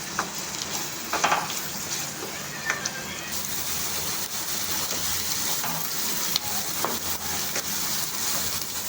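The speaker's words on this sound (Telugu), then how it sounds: "అందులో పాటు మనం కట్ చేసి ఉంచుకున్న ఆనియన్స్, గ్రీన్ చిల్లీ వేసేసుకొని బాగా ఫ్రై చేయించుకున్నాం" Onions and green chillies frying in a pan for prawn masala, with a steady close sizzle and occasional stirring scrapes and clinks throughout.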